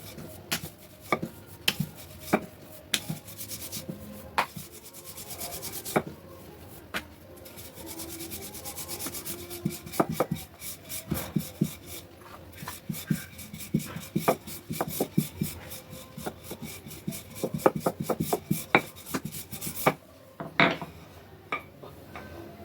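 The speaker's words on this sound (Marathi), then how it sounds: "आपण गोळी लाटूया" Dough ball for a crisp, golden-brown winter tea-time snack being rolled thin with a rolling pin, a steady run of soft rubbing and knocking strokes, close and fairly quiet, with no talking.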